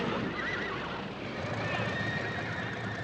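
Several horses whinny and neigh over a faint clatter of hooves, heard at a moderate distance against a busy outdoor background with no clear talking.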